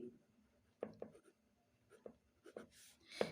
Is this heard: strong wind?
no